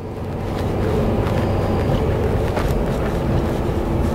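Inside a car cruising on a road near New Braunfels, Texas, a loud, steady broadband road and tire roar with a wind-rush hiss, swelling slightly in the first half second, then holding constant, with no talking.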